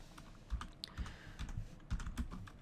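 A computer keyboard is tapped in short irregular bursts of soft clicks, close and quiet, no talking.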